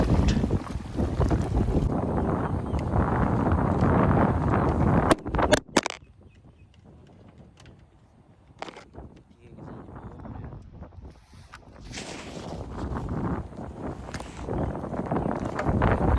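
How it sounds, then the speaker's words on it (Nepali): Strong wind buffeting a microphone on a boat, heavy roaring gusts that drop out briefly mid-way then return, with some indistinct speech mixed in. "यस्तो डुङ्गर हावा लागिरहेछ केटा है।"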